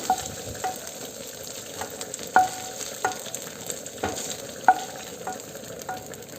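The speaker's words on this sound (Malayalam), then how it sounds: "ഇടയ്ക്കൊന്ന് ഇളക്കി കൊടുത്തിട്ട് നമുക്കിതിനൊന്ന് ചൂടാക്കിയെടുക്കാം" Prawns fry in hot oil in a pan while a spoon stirs them, producing a soft continuous sizzle punctuated by light scraping clinks at irregular intervals.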